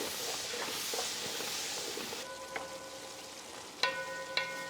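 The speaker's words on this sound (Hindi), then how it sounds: "अब हम डालेंगे टमाटर का पेस्ट जो हमने अभी किया, और भुनेंगे" Freshly made tomato paste fries in a hot pan, giving a steady close sizzling hiss with a few sharp clinks of a utensil against the pan near the end.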